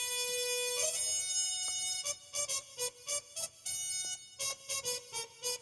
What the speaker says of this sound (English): Within those trumpets, we put a muted trumpet, which sounds like this.